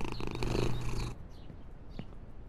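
Purring of a cat in the video game Only Up!, loud and close with a steady rumbling pulse for about a second, then dropping away to quiet background noise.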